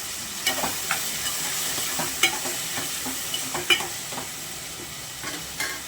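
Tomatoes for a chicken curry cooking in a pan with salt, a steady soft sizzle under scattered scraping and clinking strokes of a spoon stirring, close and moderately loud.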